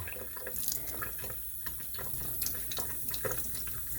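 Kitchen tap water running into a sink while peeled quail eggs are rinsed, a steady close splashing stream with small irregular drips and clinks, no talking.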